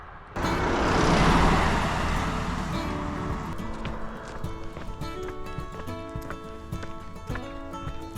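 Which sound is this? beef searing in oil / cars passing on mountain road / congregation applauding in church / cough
cars passing on mountain road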